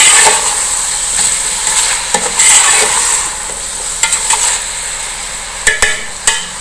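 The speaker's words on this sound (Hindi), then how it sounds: "थोड़ी देर हम इसको भूनने देंगे।" Chicken and chana fry in a pot for pulao with crushed green chillies, a steady hiss of sizzling oil punctuated by scattered clinks and scrapes of a stirring spoon against the pot.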